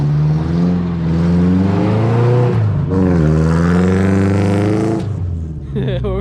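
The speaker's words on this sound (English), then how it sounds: "Oh my god, that thing sounds amazing. Oh, I love this exhaust." A 1987 Toyota pickup fitted with a new exhaust revs loud and close, its deep engine note climbing and dropping a few times before settling to idle.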